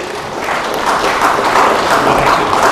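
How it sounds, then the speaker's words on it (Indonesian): A burst of audience applause, dense clapping that swells and holds steady, fairly loud and close. "Sehari-hari kita beri tepuk tangan untuk Yesus."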